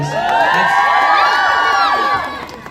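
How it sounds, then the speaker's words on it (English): A crowd at a Salman Khan store launch in Toronto cheering and shouting loudly and steadily, excited high voices whooping over a dense roar that fades slightly toward the end. "A big round of applause to that"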